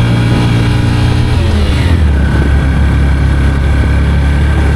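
A vehicle engine strains up a steep hill road toward Keokradong in Bandarban. It gives a loud, close, continuous labouring drone whose pitch shifts partway through as the load changes. No one speaks.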